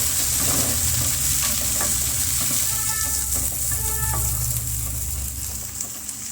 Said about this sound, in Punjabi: ਹੁਣ ਆਪਾਂ ਪਾ ਦਵਾਂਗੇ ਪਿਆਜ਼ ਪਿਆਜ਼ਾਂ ਨੂੰ ਵੀ ਇਹਨਾਂ ਨੂੰ ਆਪਾਂ ਭੁੰਨ ਲਵਾਂਗੇ